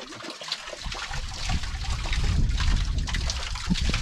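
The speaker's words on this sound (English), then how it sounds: "Water straight out of the well." Well water drawn the old-fashioned way trickles and splashes steadily, a close, continuous watery dribble with small spatters throughout.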